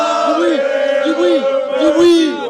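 A water rugby team in Toulon shouts and chants together loudly and up close after a match, their voices rising and falling in sustained unison cries.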